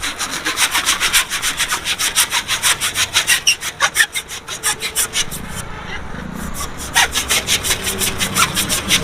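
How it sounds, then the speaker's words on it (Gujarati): A balloon is inflated with air pumped in by hand, giving a fast, even run of rasping strokes, close and loud, repeating for several seconds without pause. "જો હમણાં ફુગ્ગામાં હવા ભરું"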